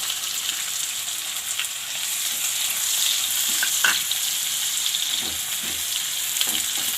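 Onion added to a pan of frying garlic for Indian-style masala pasta, a loud continuous hiss and sizzle with a few soft clinks of stirring, close and steady, no talking.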